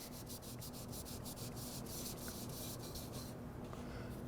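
A hand rubs friction polish onto a turned wooden kitchen scoop with the lathe stopped, making a close, continuous scratchy rubbing with quick repeated strokes and no voices.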